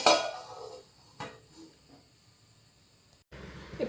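A plate is set down over a bowl of cut potatoes soaking in water, giving a few light ceramic clinks and taps that are faint, spaced out and otherwise quiet.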